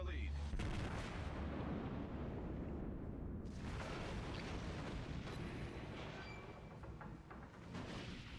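Heavy naval gunfire from the Tirpitz battleship in World of Warships booms in dense, rumbling volleys, a near-constant loud barrage with low explosive thuds throughout.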